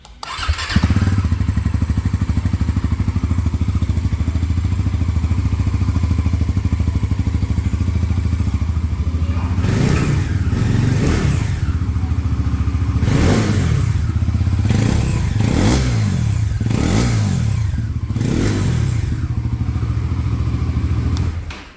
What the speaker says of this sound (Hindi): आइए सुन लेते हैं दोनों बाइक की एग्जॉस्ट साउंड। तो सबसे पहले स्टार्ट करते हैं एनएस 400 को।